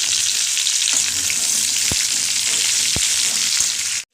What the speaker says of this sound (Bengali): আলুগুলো একটু ভাজা ভাজা করে নিই।